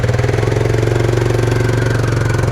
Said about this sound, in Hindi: ट्रैक्टर की सैर भी जो है ना यहाँ पे लोगों को करवाई जा रही है भाई